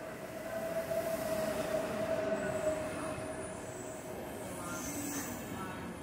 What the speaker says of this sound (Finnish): Tää on suht turvallista junamatkustamista.